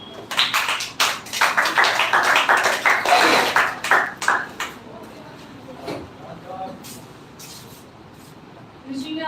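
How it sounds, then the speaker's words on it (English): An audience claps at a speech competition on poverty in India, a dense burst of hand claps for several seconds that thins out to a few scattered claps, followed by quieter room sound. "So please clapping for Sahista."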